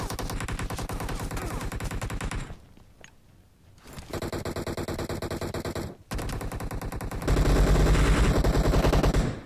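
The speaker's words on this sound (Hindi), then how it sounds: "जिस हिसाब से गोलियां चल रही है" Rapid bursts of automatic gunfire in the video game BGMI crackle almost nonstop, with a short lull in the middle before heavier, louder volleys resume near the end.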